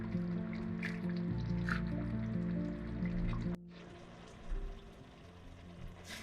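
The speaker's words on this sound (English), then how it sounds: "we will cook on a high flame till the bubbling sound of water goes and the sizzling sound of oil can be heard again" Chicken pepper fry cooking in a pan over a high flame, with steady bubbling water and oil sizzling close up, a dense continuous frying sound that shifts abruptly midway and then carries on with faint clinks and stirring.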